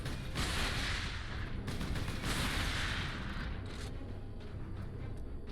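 Rapid video game gunfire shooting through boxes, a dense continuous rattle of shots and impacts that stays fairly loud throughout, with no talking.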